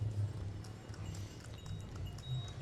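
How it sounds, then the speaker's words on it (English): Horse-and-cart hooves clip-clop on a Jakarta street during a car-free New Year's Eve night, faint and somewhat distant, in a steady rhythm over low background street noise. "Obviously these horse and carts are allowed."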